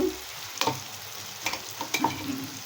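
Green chili paste with ginger and garlic fried in a pan for Rayalaseema-style ugani, a soft continuous sizzle with a few sharp scraping stirs close by, no talking.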